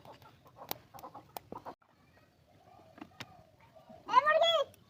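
A chicken clucks briefly near the end of a quiet indoor kitchen scene, after scattered voices of children and adults talking.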